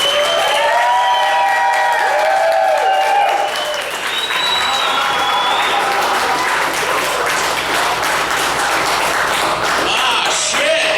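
Loud, sustained applause and cheering from a comedy roast audience welcoming the roast guest, Alex Ansel, to the stage, steady across the whole stretch with whoops rising above the clapping.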